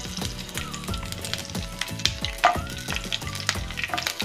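Green chillies broken in half frying in hot oil for masala puri, a loud crackling sizzle with frequent sharp pops and spatters, steady and close, no talk.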